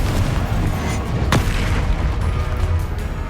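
A single deep explosive boom from the Confringo fire spell in Hogwarts Legacy, with a sharp blast near the middle set against a steady rumbling bed of combat noise.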